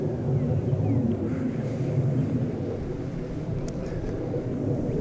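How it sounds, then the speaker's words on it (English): A low, steady rumble of an airplane passing overhead fills the whole stretch outdoors near a game-camera pole in the woods, fairly distant and even in loudness. "Sorry about the airplane noise."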